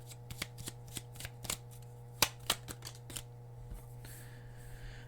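Tarot cards are shuffled and flicked in a quiet room as a new card is drawn, giving a string of sharp, close riffling snaps at uneven intervals over a steady low hum, with a softer sliding rustle toward the end.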